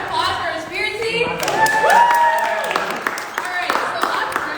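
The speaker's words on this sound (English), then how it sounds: "Can we get a round of applause for our spirit team?" An audience claps and cheers for a spirit team at a poetry and tea event, scattered sharp claps rising into broad applause with shouts and a voice speaking over it.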